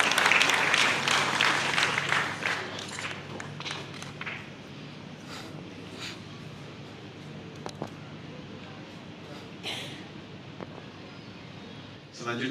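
Audience applause at an induction ceremony for the Aceh disaster risk reduction forum board, loud and dense at first, then thinning into scattered claps and a few taps as it fades out.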